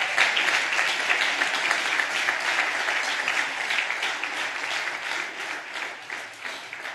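Congregation in a church clapping together, a steady, moderately loud round of applause lasting throughout, with no talk over it.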